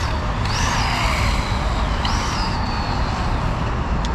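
A Traxxas RS200 RC car on a 3S battery runs at about half throttle, with a loud, steady motor whine that rises and falls in pitch twice as it drives past. No voices are heard.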